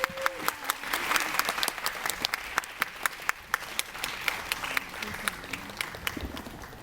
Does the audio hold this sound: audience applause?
yes